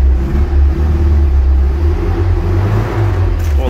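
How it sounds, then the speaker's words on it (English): A 1978 Leyland Mini 850's small engine runs steadily, a loud, close, low rumbling idle with a faint rhythmic pulse throughout. "What a lovely, sweet little motor, that."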